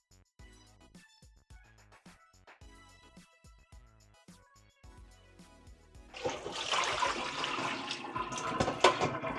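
Fresh tap water pours steadily to rinse raw chicken, a rushing, splashing stream that starts suddenly partway through after quieter clinks and handling noises.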